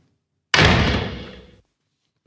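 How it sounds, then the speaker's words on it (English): A door is shut with a single loud, close slam that booms and rings out for about a second before silence. "And Victoria Rich closed the door."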